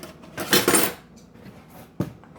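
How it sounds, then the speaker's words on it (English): A spoon stirring a homemade juice drink in a glass, a short cluster of bright clinks against the glass followed by a single sharper tap, close and quiet. "You could stir your drink,"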